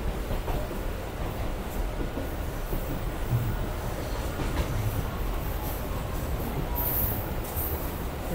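The Howrah–Goghat local train runs steadily between Arambagh and Goghat, a loud continuous rolling rumble of wheels and carriages heard from inside, with no talk.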